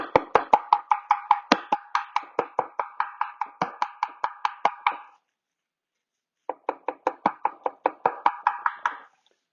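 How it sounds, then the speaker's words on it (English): A knife finely chopping Napa cabbage on a board makes rapid, evenly spaced crisp thuds close by, a long run of chops, a pause, then a second shorter burst, with nobody talking. "We add a little bit of Napa cabbage for a little bit of texture."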